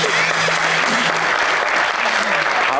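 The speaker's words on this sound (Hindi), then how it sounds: "अंकल के लिए तालियां।" Studio audience at a Pakistani television talk show breaks into loud, dense applause that fills the whole stretch at steady strength, with a faint voice briefly showing through the clapping.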